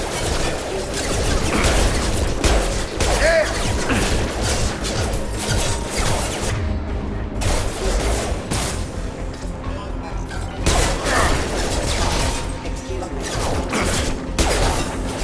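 Gunfire and crashing impacts during Mass Effect 2 combat, with loud, dense bursts of shots and hits repeating throughout, mixed with game sounds and some voices.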